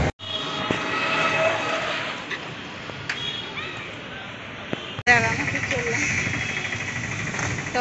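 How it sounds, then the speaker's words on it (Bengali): Passenger train pulling in at a station, a continuous rumbling engine and rolling drone with squeals and clanks, cut briefly by a gap before a louder stretch, with voices talking over it. "আমাদের ট্রেন আসছে"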